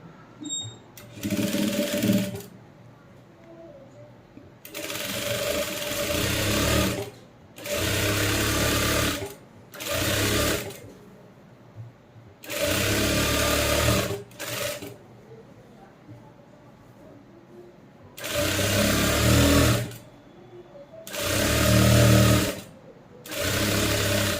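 A sewing machine stitches along the marked line while fitting a readymade kurti, running in about eight loud bursts of a second or two each, separated by short pauses.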